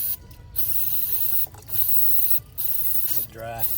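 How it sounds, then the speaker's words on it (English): Brake cleaner is sprayed onto tapered wheel bearings from a teardrop camper with Dexter axles, four sharp hissing bursts of varying length close to the mic, separated by brief pauses, the last ending with a faint rattle. "Spray that out with some brake cleaner."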